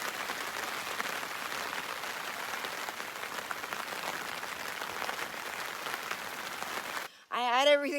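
Rain patters steadily on a bug shelter at a lake campsite, a soft continuous hiss of drops close by, broken near the end by a person speaking.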